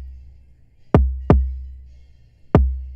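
Three dry kick drum hits from an electronic beat, two close together and then one after a pause, each a deep, punchy thump with a quick attack and no reverb tail, played alone.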